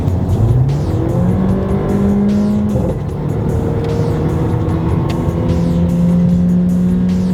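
A four-wheel-drive car with a 7-speed dual-clutch gearbox accelerates hard. Its loud, steady engine roar carries rising and shifting tones throughout, with brief dips between gears.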